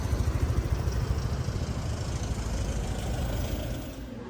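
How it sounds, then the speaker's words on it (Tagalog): Vehicles sit idling in traffic in Baguio, a steady low engine rumble close by with a throbbing pulse that eases slightly over a few seconds. "Traffic na sila."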